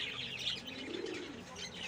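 A racing pigeon comes down at its home loft, with soft cooing and chirping close by and a faint flutter of wings in a brief burst.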